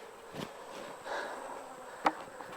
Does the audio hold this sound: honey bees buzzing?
yes